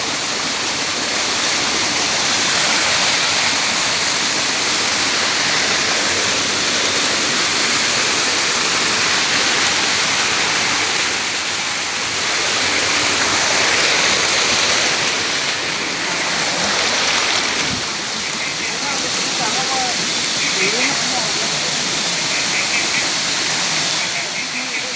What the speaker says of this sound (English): River fall, waterfall.